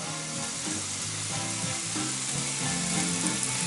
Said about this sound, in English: I'm going to crispy it up. Almost like frying bacon.